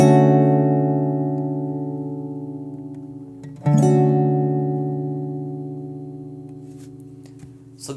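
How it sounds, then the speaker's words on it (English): Strummed chord on an acoustic guitar through a ToneWoodAmp Leslie effect at small depth rings out and slowly fades, then a second strum rings again, a faint swirling shimmer on the sustained notes, no talk. "So if we have a small depth, you'll still be able to hear the effect"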